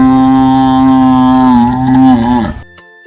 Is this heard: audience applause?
no